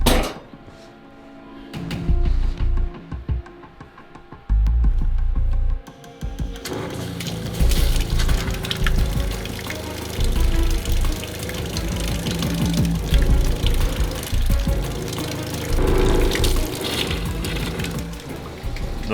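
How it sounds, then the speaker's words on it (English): A water pump being tested for a home build runs while unmounted, sitting loose and bouncing around. Irregular thunks and knocks ring over a continuous churning, watery rush. The sound is close and loud, with a brief quieter gap early on. "Those horrible noises are because the pump is not mounted to anything, so it's just kind of bouncing around down there."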